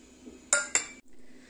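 Metal and glass clinks as a mixer grinder jar filled with spice ingredients for a masala paste is handled, two sharp close knocks followed by quiet.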